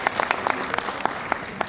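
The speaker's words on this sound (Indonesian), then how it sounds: "Tepuk tangan buat kalian semua" Audience applause at a testimony sharing session, a burst of brisk, fairly close hand claps with sharp individual slaps scattered through the steady clapping.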